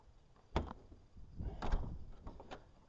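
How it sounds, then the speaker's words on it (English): A newly built door on a small farm shed, probably a chicken coop, swings open and shut with a sharp knock near the start and a longer rattling, creaking stretch followed by a final bump, all close by. "Actually got a door on there that works."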